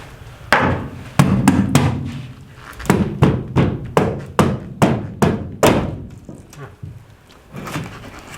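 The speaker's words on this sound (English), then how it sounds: "we might have to use the crowbar and mallet again" Mallet blows on a crowbar working loose a stuck rivet during a school bus conversion, about a dozen loud metallic-wooden knocks in an uneven rhythm, close by with no talking.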